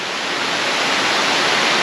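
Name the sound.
waterfall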